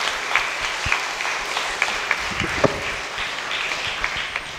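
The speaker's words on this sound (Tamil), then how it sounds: "உற்சாகமாக ஒரு தடவை கைதட்டுங்க." A church congregation at a Jubilee Year 2025 retreat claps hands together in a lively, sustained round of applause, with a few sharper individual claps standing out near the front.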